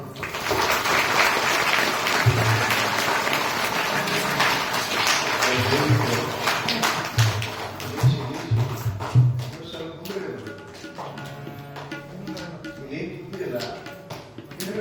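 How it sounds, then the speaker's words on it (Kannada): An audience claps together during a religious discourse, a dense patter of hands running through most of the stretch while a voice carries on over the top, then thinning out toward the end. "ಎಲ್ಲರೂ ಒಂದಿಷ್ಟು ಸಾಂಬ ಸದಾಶಿವ ಅಂತೀರಿಲ್ಲ, ಚಪ್ಪಾಳೆ ಹೊಡೆಯೋಣ"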